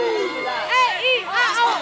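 Crowd at a concert in Sandown calling out in long drawn, rising and falling group shouts that sound like booing, loud and close, with several voices overlapping.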